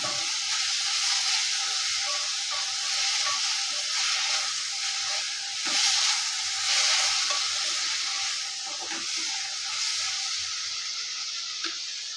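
Egg pepper masala with tomato and salt sautés in a pan, giving a continuous close sizzle with occasional stirring scrapes and soft clinks throughout, no voices.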